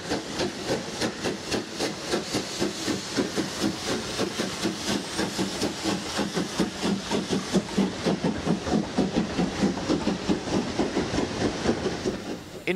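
A USATC S160 steam locomotive built by Alco, the wartime American goods engine used on British rails, chugging steadily with a rhythmic, rapid beat of exhaust and wheel clatter, loud and close throughout with no talk.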